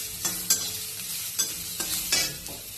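Onion sizzles steadily in oil in a kadhai for poha, with several distinct scraping knocks of a spatula stirring it against the metal every half second or so, close and clear with no talking.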